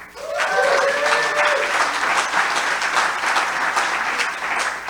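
Audience at an investor summit breaks into applause, the clapping swelling quickly into a full, sustained ovation, with a brief voice or tone at the very start.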